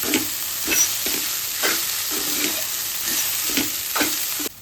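Kanda poha frying in a pan is stirred with steady, rhythmic scraping strokes about every half second over a continuous close sizzle, loud and alone with no voices.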